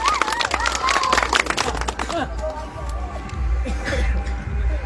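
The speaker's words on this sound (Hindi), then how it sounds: "सीताराम जी नायक साहब जोरदार तालियां" Crowd at an RLP political rally in a village near Sardarshahar claps and cheers, a busy burst of applause mixed with voices and babble that thins after two seconds into scattered claps and low crowd murmur.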